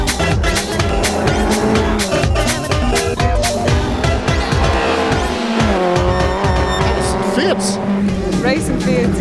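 Fiat Punto Abarth race cars from a 2003 cup season racing at full tilt, engines loud and continuous with repeated tire squeals and passing engine swells, voices talking over the din.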